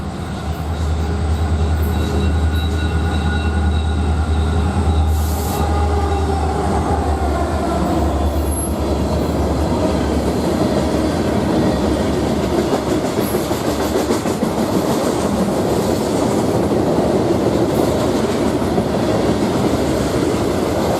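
A Wisconsin & Southern freight train led by locomotive 6022 rumbles past at night, heading northbound, its deep engine drone and steady clickety-clack of wheels on rail loud and close, with brief squeals near the start.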